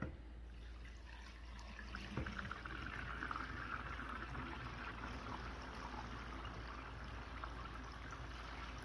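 Homemade beef and chicken bone broth poured steadily through a strainer, a continuous soft liquid rush with a faint clink near the start, heard alone and fairly quiet.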